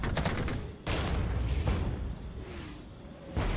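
Cannon and mortar fire thunder across a Regiments battlefield against entrenched BMP-1 positions, sharp repeated blasts and booms landing over a steady rumble of combat.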